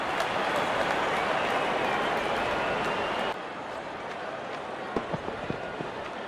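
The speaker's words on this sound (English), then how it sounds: "there comes the celebration and the crowd loves it" Cricket crowd cheering and applauding a wicket at a New Zealand versus South Africa Test match, a broad roar of cheers and clapping that drops in level partway through, then continues more faintly with scattered claps.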